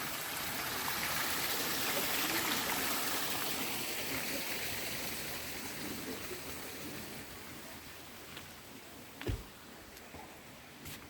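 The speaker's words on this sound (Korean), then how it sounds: "계곡물 소리," A mountain valley stream flows in a steady, moderately loud rushing wash that gradually softens, with a brief knock near the end and no voices.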